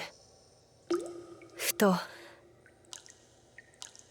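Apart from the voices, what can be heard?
water dripping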